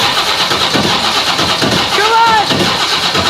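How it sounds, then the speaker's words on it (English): Abandoned 1970 twin-turbo big-block jet boat engine, rebuilt and cranked for its first start while the boat sits on a trailer, turning over steadily with a rising whine as a voice shouts encouragement over it. "First start on the boat."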